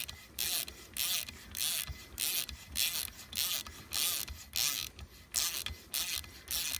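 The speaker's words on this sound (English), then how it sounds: "You can see I'm just using the head of the ratchet." A ratchet head turns a tap, chasing threads lubricated with cutting oil during boat repairs, giving a quiet, regular series of creaking, scraping clicks in short strokes, close by.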